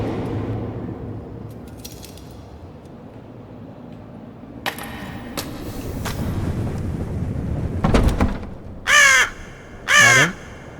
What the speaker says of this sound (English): A bird cry breaks the silence. I guess there's a crow or something outside.